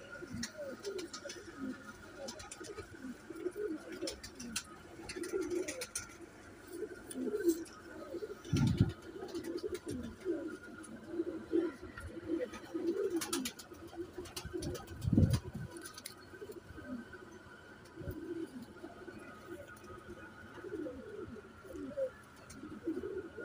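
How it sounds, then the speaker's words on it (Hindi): Large-boned Royal Teddy pigeons coo steadily in low, throaty bursts, with occasional chirps and rustling nearby, no voices. "बड़ी हड्डी का कबूतर है दोस्तों"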